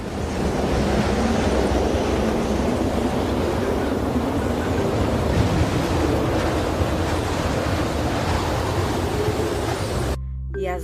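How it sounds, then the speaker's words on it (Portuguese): Storm waves and a strong gale batter a boat, a loud, continuous roaring wash of surf and wind noise that cuts off abruptly near the end. "E as ondas se lançavam sobre o barco, e o barco foi se enchendo de água."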